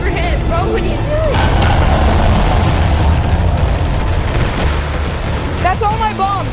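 Bombs explode in the video game Animal Company, a dense run of booming blasts and rumble, loud and continuous, with brief voices chirping through the noise.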